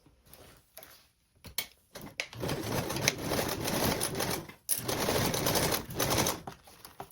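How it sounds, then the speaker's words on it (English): A sewing machine stitches tote bag straps with a 3/8 seam allowance, giving rapid mechanical clatter in two long bursts separated by short pauses and clicks, close by. "And we're going to sew with a 3/8 seam allowance."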